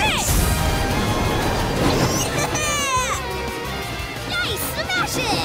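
Cartoon snowballs get smashed in a children's animated show about trains and a wedge plow: bright crashing impacts burst among music and excited kids' voices talking and cheering.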